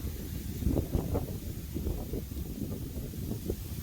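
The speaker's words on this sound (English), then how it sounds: "It's windy this afternoon." Steady afternoon wind outdoors rumbling across the microphone, a continuous low buffeting roar with gentle gusts and no clear voices.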